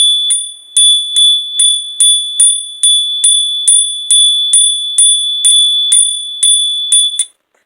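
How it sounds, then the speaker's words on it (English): Small bells are struck again and again in a steady rhythm, about a dozen bright ringing hits. They are close and loud, each tone sustaining until the next strike, with no talking. "I have to hit the bells so that I know we're at the right frequency"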